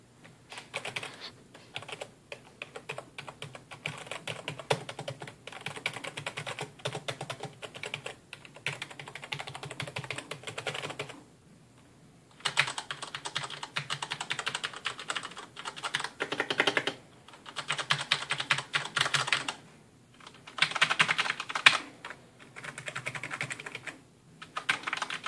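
Typing on a Gigabyte Aivia Osmium mechanical keyboard, rapid clattering keystrokes in bursts separated by short pauses, close and clear with no talking.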